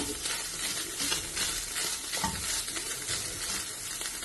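Chicken pieces, already boiled with salt, sautéed in a pan with carrot, a steady soft sizzle broken by scraping spoon stirs, quiet and close, no voices.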